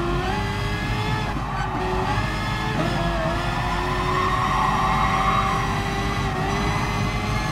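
A Vision Gran Turismo race car in Gran Turismo Sport accelerates with a loud, continuous high-pitched engine whine that swells and dips through shifts and cornering, with no talk over it.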